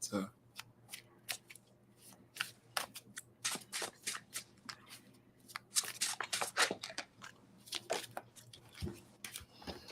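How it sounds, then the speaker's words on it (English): Tarot cards are shuffled repeatedly close up, giving a rapid series of crisp riffling and snapping bursts, with soft voices talking faintly in the background. "I'm still shuffling."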